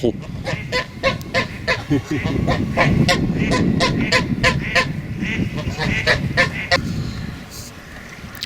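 An angry goose honks repeatedly in a rapid series of loud, harsh calls near a wooded area at Châteaudun, with a steady background rumble underneath.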